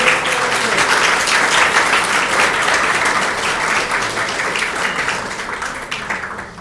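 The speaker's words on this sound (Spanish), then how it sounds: "Un fuerte aplauso para el licenciado" Loud audience applause at the Green Ágora cannabis talk, a thick, sustained roar of clapping from a seated crowd that stays strong and tapers only slightly toward the end.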